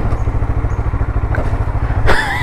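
A motorcycle rides over gravel toward a bridge on the BR-319 highway in Brazil, its engine thrumming loudly and steadily close by with rattling clatter, then a sharper scraping burst near the end.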